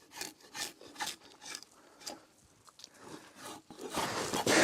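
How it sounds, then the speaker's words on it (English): Rasp shaping dry wood on the back of a hand-made bow, heard up close as a series of rough scraping strokes in an irregular rhythm, growing louder and more continuous toward the end. "I can already tell that this wood is very dry, so I think it's going to take a rasp really nice."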